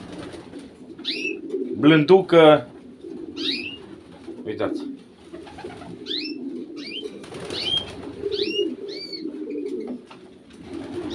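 A champion racing pigeon coos repeatedly at close range, with a short burst of wing flapping, while someone speaks over it indoors.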